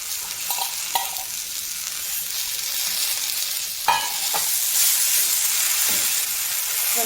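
Fresh, just-washed ondelaga (centella) leaves hit a pan of hot oil where spices were roasted, giving a steady close sizzle with soft stirring scrapes and a few sharper crackles throughout.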